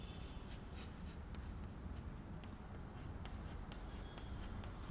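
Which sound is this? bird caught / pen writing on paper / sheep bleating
pen writing on paper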